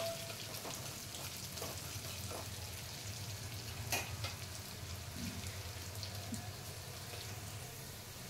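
Moong dal and rice fry in a pan with a faint, steady hiss and crackle, a low hum underneath and a few soft stirring clicks, distant and quiet throughout.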